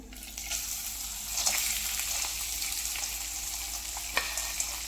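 Green chili thecha with peanuts frying in a hot pan, a steady close sizzle with occasional scrapes of a spoon stirring it.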